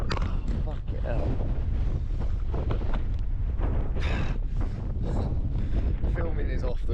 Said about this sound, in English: Filming is off this morning. It's too windy.